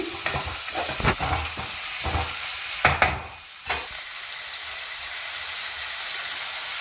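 Sliced onion frying in hot oil in a pan for a leafy vegetable curry, a bright continuous sizzle broken by several scraping stirs of a spoon, loud and close.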